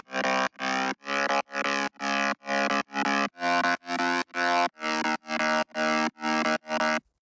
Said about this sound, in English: You can hear I put a flangus on this one, or a flanger, just to give it that more, just a nice texture.